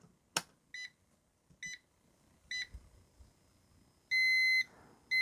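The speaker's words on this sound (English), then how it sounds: "You can hear the beep." Out-of-range beeps from a UNI-T UT61E Plus digital multimeter on a test bench: a sharp click, then several short electronic tones and one longer sustained beep, clear and close with no talking.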